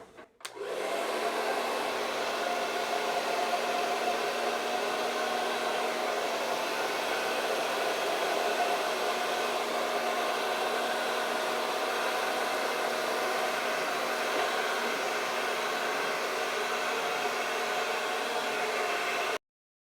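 A hair dryer blows steadily across acrylic pour paint, a constant loud whooshing roar that starts abruptly and runs unbroken with no voices.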